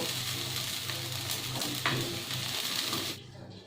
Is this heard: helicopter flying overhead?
no